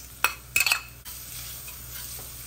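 Garlic and onion hit hot oil in a pan for a Filipino dish, giving a few quick clattering knocks followed by a steady, close hiss of sizzling that carries on to the end.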